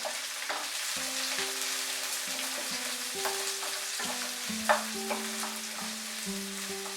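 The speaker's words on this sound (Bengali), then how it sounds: "পেঁয়াজটাকে ভেজে নেব মিডিয়াম আঁচে 4 থেকে 5 মিনিট" Two large chopped onions frying over medium heat for an echor dish: a steady broadband sizzle with occasional stirring scrapes and clinks, with a faint low tonal hum running underneath.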